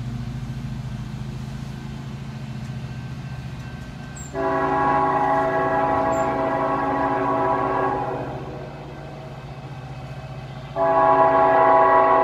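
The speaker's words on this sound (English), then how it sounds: "The long train is coming." A long train passes nearby with a steady rumble of railcars rolling along the track, broken by two loud, sustained horn blasts, the second starting near the end, all heard from a garden with no talking.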